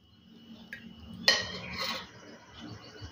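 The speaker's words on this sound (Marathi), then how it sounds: "आता मी गॅसवर कढई ठेवते" A kadhai (wok) set down on a gas stove while cooking a split moth bean and onion dish gives a single sharp metallic clank, close and fairly loud, in an otherwise quiet kitchen.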